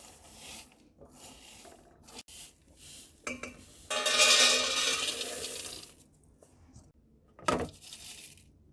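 Roasted peanuts and salt rattling and rasping through a kitchen sieve, with a sustained shaking burst in the middle and shorter scraping bursts around it, fairly close and without talk.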